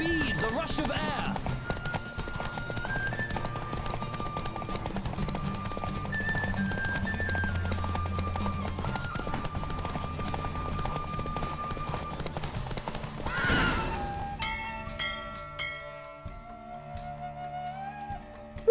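Horse in The Witcher 3 galloping steadily, rhythmic hoofbeats throughout with music and voices talking over them, then a neigh near the end as the pace breaks off.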